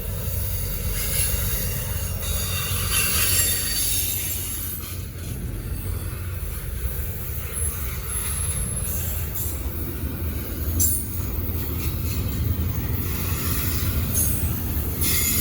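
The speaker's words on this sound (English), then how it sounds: "how heavy this train is" A heavy Norfolk Southern freight train, about 12,000 feet long, rumbles past steadily and loudly in Gaffney, South Carolina, with continuous low rolling noise, grinding wheels and occasional high metallic squeals.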